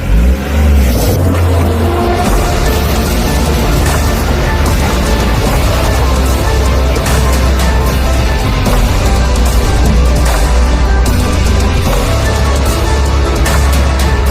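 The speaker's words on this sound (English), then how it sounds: "It's a petrol vehicle, doesn't have low range, it's a two-wheel drive vehicle." A 2021 Tata Punch petrol two-wheel-drive car labours up a rough boulder road, its engine droning loudly and continuously with heavy rumble and rattle, close and dominant throughout.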